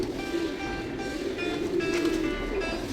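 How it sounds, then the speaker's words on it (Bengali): Soft, low pigeon cooing repeats steadily in the open air of a city's central park in the morning, with faint ambient noise and no voices. "পায়রা উঠছে এখানে"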